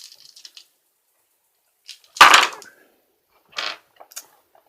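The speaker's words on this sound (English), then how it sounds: "So now Silver is going to roll her attack" Dice for an attack roll in the tabletop game Runecast clatter onto a table, a loud close burst of rattling with a few scattered taps before and after in otherwise quiet surroundings.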